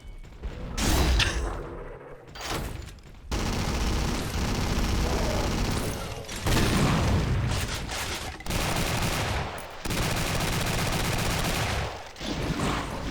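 Heavy, sustained gunfire from the Guncaster mod for Doom 2, long continuous barrages broken by short pauses, loud and close with thick mechanical clatter, no talking.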